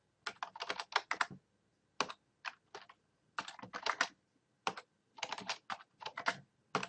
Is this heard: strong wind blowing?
no